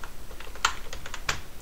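Several quick keystrokes on a computer keyboard while a password is entered, light irregular clicks with a couple of sharper taps, close and clear over a faint background hum.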